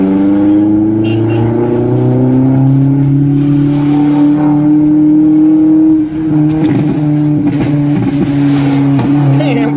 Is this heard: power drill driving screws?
no